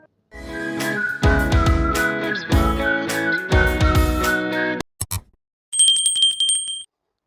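A synthesized notification bell rings out as a subscribe-button chime. Bright repeated rings come first, then a clean sustained double-toned ring near the end, with nobody speaking.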